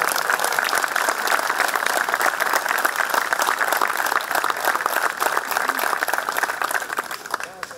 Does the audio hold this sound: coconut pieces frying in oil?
no